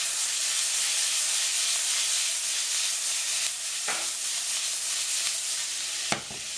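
Onions and spices frying in a pan give a steady, close sizzle and hiss throughout, with a couple of brief scraping stirs near the end.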